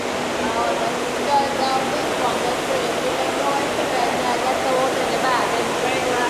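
Water churns and rushes in a loud jacuzzi tub aboard a cruise ship, a steady dense hiss and splash close by, with voices talking faintly over it.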